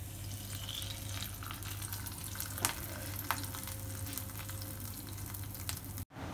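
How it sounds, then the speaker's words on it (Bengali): Hot tadka tempering poured into a pot of dal fry, giving a steady broad sizzle with a couple of sharp splashy crackles, close and fairly loud, ending abruptly, no talking. "এবার যে তরকাটা রেডি করেছিলাম সেটা আমি ডালের মধ্যে দিয়ে দিচ্ছি"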